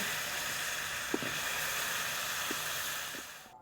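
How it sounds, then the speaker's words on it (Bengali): Potato pieces frying in oil left over from frying fish, a steady close hiss and sizzle with faint crackles, holding level before fading out at the end. "বন্ধুরা, মাছ ভাজার তেলের উপর আলুগুলো ভেজে নেব।"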